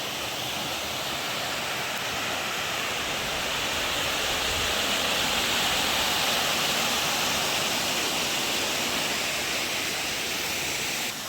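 Rushing water from Piney Falls, a steady, loud, broadband roar of the waterfall that swells slightly in the middle and holds constant throughout, with no voices.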